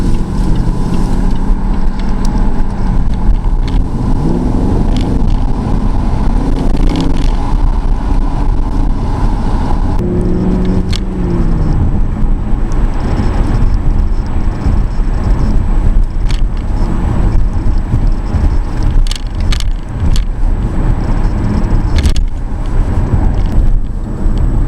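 A Jaguar F-Type sports car drives on steadily, its loud engine and road roar continuous and close for the whole stretch, with no voices over it.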